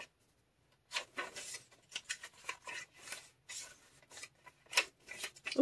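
Scissors cutting apart paper journal supplies, with a quick series of close, crisp snipping and rasping cuts in an irregular rhythm after a brief quiet start, clear and alone.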